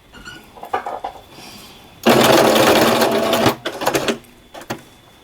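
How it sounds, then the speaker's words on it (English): Sewing machine stitching a patch onto loose jersey fabric, running in short loud bursts with a long steady run in the middle, pausing between bursts as the work is stopped and turned. "You just keep working your way a couple of stitches, stop, lift the presser foot, rotate it a little bit, keep moving"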